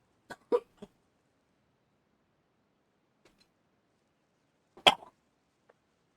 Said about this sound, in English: Sorry guys, I have a cough.